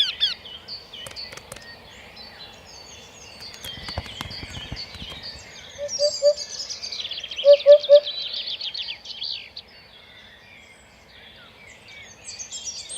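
Wryneck calling in April courtship in the Czech Karst, a short series of repeated nasal notes rising midway through, moderately close, amid other birdsong and faint background rustle.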